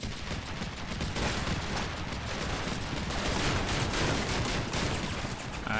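Small arms fire rakes a building in Combat Mission Shock Force 2, with rapid overlapping bursts of rifle and machine-gun shots crackling continuously at a steady, dense rhythm, fairly loud and unbroken throughout.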